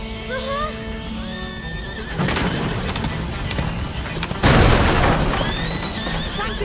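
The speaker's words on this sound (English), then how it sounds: "We need that horse!" A horse whinnies and gallops in A Plague Tale: Innocence, with loud neighing early, then heavy hoofbeats and thuds amid game noise, with voices shouting.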